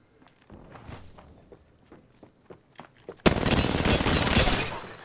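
Gunfire in Apex Legends, scattered sharp shots and footstep-like taps at first, then a sudden loud sustained burst of incoming fire and impacts filling the last two seconds.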